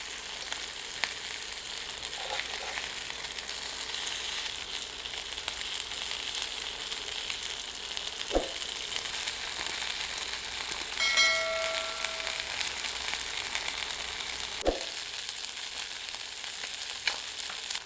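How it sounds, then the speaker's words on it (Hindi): Chicken pieces grill in a hot pan with a steady, even sizzle throughout, close and continuous, broken now and then by a soft utensil clink or a brief metallic ding. "चिकन को दोनों ओर से अच्छी तरह से ग्रिल करें।"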